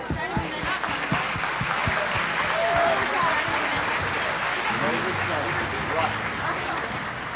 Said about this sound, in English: If you would give a big round of applause for all of those people.